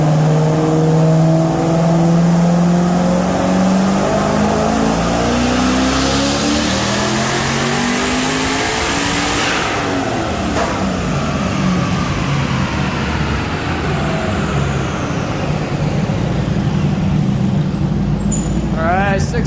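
A turbocharged V8 in an FC RX-7 running a full pull on a dynamometer at about 19 pounds of boost, a loud, close engine climbing steadily in pitch for roughly ten seconds, then backing off into a rough, burbling idle-down.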